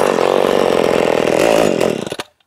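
A Homelite Super XL chainsaw with a 30-inch bar and a troubled carburetor runs loud and close, a raspy two-stroke snarl at steady speed that suddenly bogs and cuts out.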